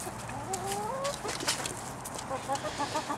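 Backyard hens cooped up in a chicken tractor cluck close by, with drawn-out rising calls and quick, repeated clucks from several birds at once.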